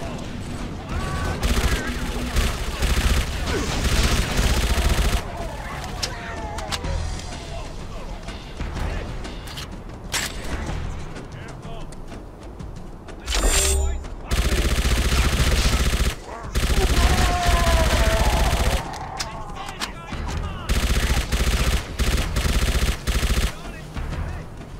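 Sustained bursts of automatic gunfire and rifle shots in a Halo: Combat Evolved firefight, loud and dense with short lulls, mixed with game sound effects and voices talking between volleys.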